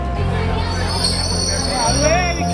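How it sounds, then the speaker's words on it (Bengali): A train rolls into a station with a drawn-out metallic wheel squeal and steady rumble, while a crowd murmurs and voices talk nearby. "চলে এসেছে আমাদের ট্রেন ট্রেন আমাদের প্ল্যাটফর্মে দিয়ে দিয়েছে"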